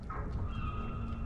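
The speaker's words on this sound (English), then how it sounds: "I hear seagulls." Seagulls calling in a dark game world, faint thin cries over a low rumbling ambience, a few brief calls rising and fading.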